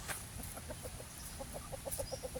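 A chicken clucks softly in a quick run of short, evenly spaced notes, faint against a quiet hiss.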